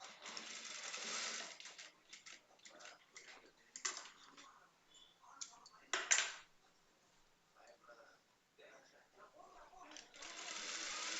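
A sewing machine stitches a blouse's hook strip in rapid ticking bursts, loudest at the start and end, with quieter stretches between them. Someone talks over parts of the stitching.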